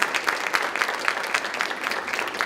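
A crowd claps for a county Board of Education member at a community panel, the applause steady and fairly close, with individual sharp claps standing out in an even rhythm.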